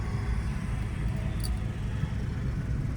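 A car engine hums and rumbles steadily while the car is driven slowly in stop-and-go city traffic, a continuous close drone with no clear sharp revs.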